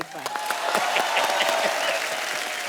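Studio audience at The Kapil Sharma Show comedy taping bursts into applause, with sharp individual claps standing out over a full, lively wall of clapping that stays fairly loud throughout, with a voice briefly audible early on.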